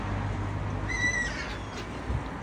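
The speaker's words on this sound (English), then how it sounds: "About to get attacked by seagulls." A seagull gives a single brief, fairly faint call outside a seaside fish shop, over low outdoor background noise.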